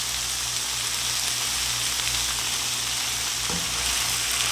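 Sliced carrot and cabbage stir-fry in a pan with a steady, close hiss of frying and a brief scrape of stirring near the end, no voices.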